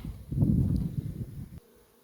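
Honeybees circle in a dense, steady buzz around their hive after being moved to a new site, the loud swarm hum filling the air before cutting off abruptly near the end.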